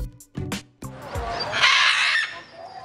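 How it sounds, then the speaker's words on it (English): A short cartoonish bird clucking effect in a preschool rhyming song, with a few quick choppy squawks followed by a brighter, sustained squawking call up close. "Did you hear the bird say a word?"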